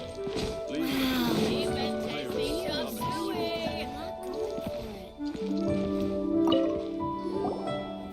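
Water drips in Genshin Impact, making plinking, squishy droplet sounds. The drips are mixed with a busy layer of tonal, music-like sound and what seems to be voices.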